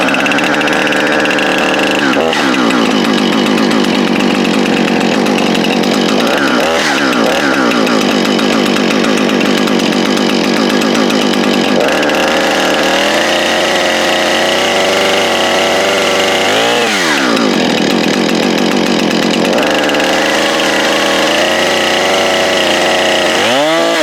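A Jonsered CS 2255 chainsaw, new and on first setup, starts and runs loud and close, its engine rising into high revving bursts and dropping back to idle several times with no talk over it.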